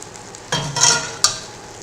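Heavy sugar syrup, two and a half parts sugar to one of water, poured over hot baklava, sizzling in a couple of soft bursts with a sharp crackle near the end, close and alone.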